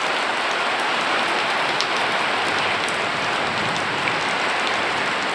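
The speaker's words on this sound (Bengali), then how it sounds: "রাজশাহীতে অনেক বৃষ্টি হচ্ছে" Heavy rain pours steadily in Rajshahi, a dense, even hiss of drops hitting surfaces that goes on unbroken and loud with no voices over it.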